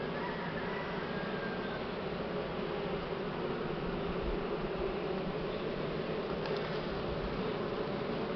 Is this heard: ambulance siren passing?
no